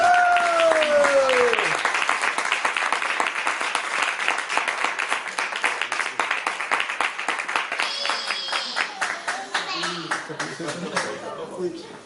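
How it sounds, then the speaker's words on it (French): Applause from an audience at a slam poetry evening in the Médiathèque de Vence: dense, sustained clapping that follows a brief voice at the start and slowly thins out toward the end. "faire un tonnerre d'applaudissements à Yves"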